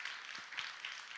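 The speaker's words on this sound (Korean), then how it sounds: "우리 박수 한번 쳐줍시다" Church congregation applauding during a Sunday worship service, a faint, distant wash of many hands clapping together, steady and diffuse with a few sharper claps poking through.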